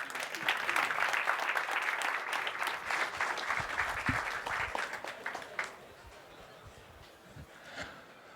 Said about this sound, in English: Please give them a warm applause.